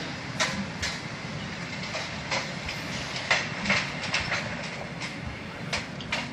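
A train runs in the MSTS Open Rails simulator as the 18621 Patliputra Express, with a steady rumble and repeated clickety-clack wheel beats over the rails. The sound is moderate and continuous, with irregular sharp clacks.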